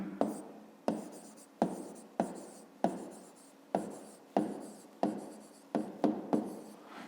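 Pen strokes on paper while working a fifth-grade maths exercise, a steady series of about ten short scratchy bursts, each starting sharply and trailing off, close and fairly quiet with no talking.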